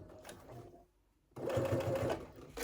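A sewing machine top stitches a fabric beauty bag in two short runs of close, steady whirring needle clatter, separated by a brief quiet pause.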